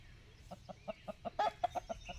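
A rooster clucks in a quick, steady series of short calls, fairly close and moderately loud, with no one talking.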